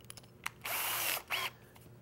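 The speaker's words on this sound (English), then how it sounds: "I'm going to switch out to a 3/16 inch drill bit." Power drill fitted with a 3/16 inch bit boring into wood while installing cabinet door hardware, heard as two loud close whirring bursts, a long one followed by a shorter one, with no talk.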